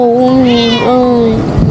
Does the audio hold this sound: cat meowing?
yes